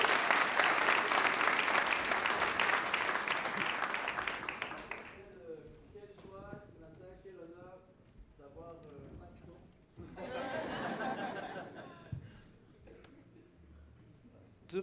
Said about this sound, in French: est-ce qu'on peut l'applaudir encore?